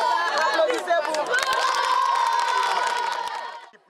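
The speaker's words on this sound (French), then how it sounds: "Applaudissez-vous." A crowd of students in a school cheers, whoops and claps together, a loud sustained burst of voices that fades out at the end.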